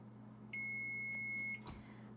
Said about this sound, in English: When your chip timer goes off again, go ahead and shut that timer off.